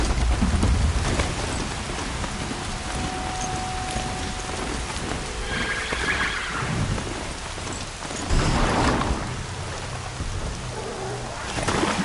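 Steady rain falls in Horizon Zero Dawn: The Frozen Wilds, a continuous dense hiss with a few louder gusty swells, heard alone without voices.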